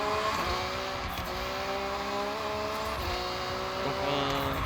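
The Lamborghini Sian Roadster engine roars continuously in Forza Horizon, a loud high-revving wail with rising pitch sweeps and brief shift dips, accompanied by tire noise throughout.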